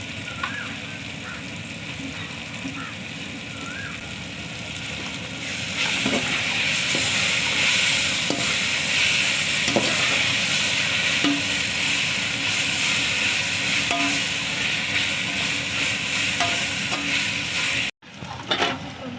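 Chicken pieces sizzle and fry in a hot pan with oil, ginger and garlic for mint chicken biryani, a steady close crackling hiss that grows louder after stirring, with occasional scrapes and clinks.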